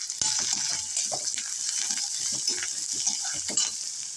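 Carrot and other vegetables sizzle steadily in a hot pan while a utensil stirs and scrapes, producing soft clicks and rustles over the frying hiss.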